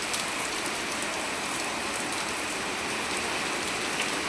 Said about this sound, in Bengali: পুরো মুষলধারে বৃষ্টি হচ্ছে।